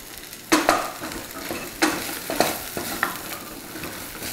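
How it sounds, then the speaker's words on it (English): Spices stirred in hot oil in a pan: a soft sizzle punctuated by several sharp scrapes and knocks of a utensil against the pan at irregular intervals, close up. "Saute just until you've got everything all coated and all loved up."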